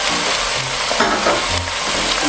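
Leek, onions and garlic frying in a pot for creamy bacon and leek soup, giving a steady broadband sizzle with faint scraping and stirring noises, close and continuous throughout.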